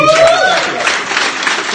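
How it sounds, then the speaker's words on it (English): Theatre audience at a live Glasgow show applauds in a brief, full burst of clapping and cheers while a voice speaks over the start. "give yourselves a round of applause"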